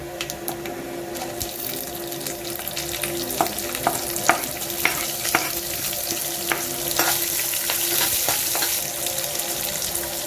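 Green chillies fry in hot oil in a pan with roasted chana dal for a masala to go with pooris, giving a steady, close sizzle broken by small pops and scraping stirs, with no talking.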